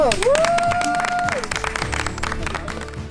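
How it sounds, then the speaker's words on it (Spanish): Crowd applause at an outdoor gathering in Mazatán, Chiapas, dense steady clapping throughout, with a sustained whistle or tone sweeping over it early on. "¡Aplausos!"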